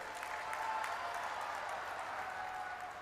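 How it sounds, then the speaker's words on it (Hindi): Crowd at a political rally clapping on request for a religious leader, a steady, fairly faint and distant wash of many hands applauding throughout, with no speech over it. "जोर से ताली बजाइए जरा"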